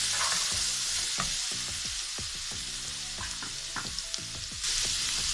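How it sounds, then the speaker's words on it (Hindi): Ground garlic frying in hot oil with browned onions for a tarka, a steady close sizzle broken by repeated clatters of a spoon stirring the pan, with no voices. "जैसे ही प्याज का कलर इस तरह का होता है, हमें इसके अंदर ये 1 चम्मच लहसुन का पिसा हुआ डाल देंगे।"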